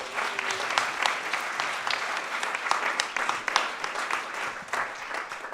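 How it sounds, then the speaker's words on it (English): Audience applause fills a community event session in Knowle West, Bristol, steady and dense clapping sustained throughout with a few sharper individual claps standing out, no talk over it. "So we give us a little round of applause and a moment of appreciation."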